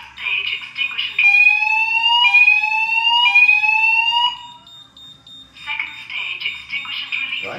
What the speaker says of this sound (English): It should now go into second stage alarm